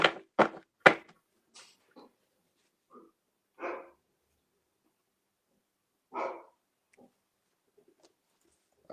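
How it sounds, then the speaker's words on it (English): A dog barks at the postman at a doorstep: three sharp, close barks in quick succession, then scattered softer barks and yaps spread out with long quiet gaps between them. "Setting the dog off."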